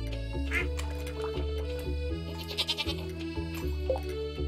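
A goat bleats in the farming video game Stardew Valley, short nasal calls rising over steady game music, with a quick wavering run of bleats in the middle.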